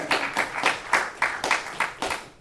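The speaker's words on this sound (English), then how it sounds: "We can clap for each other." A small live-show audience claps together in a loose, uneven rhythm of distinct hand strikes, close by, with no voices over it.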